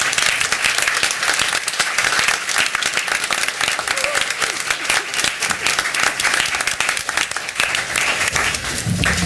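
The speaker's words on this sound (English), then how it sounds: "We want to give you all a round of applause as well." Sustained loud applause from an audience honoring students' parents and families at a school district board meeting, dense clapping filling the room without a break for about nine seconds.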